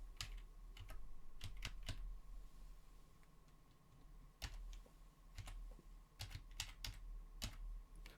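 A password is typed on a computer keyboard as a scatter of sharp, close key clicks, some in quick runs and others isolated, over a faint steady hum, with no speech.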